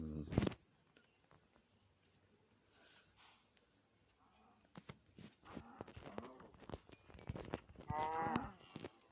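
Minecraft cows moo in a few drawn-out calls, rising toward the end, with quiet stretches and faint background noise between them.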